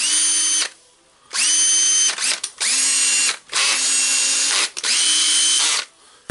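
A cordless drill fitted with a newly replaced chuck whirs at full speed in about five close, loud bursts, each spinning up quickly, holding a steady whine, then stopping abruptly.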